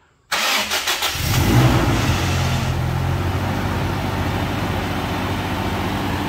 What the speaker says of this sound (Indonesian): coba dinyalakan aja mesinnya